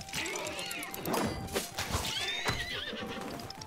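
Horses whinnying and hooves clattering amid crashes and battle clamor in a medieval battle simulator video game, loud and continuous.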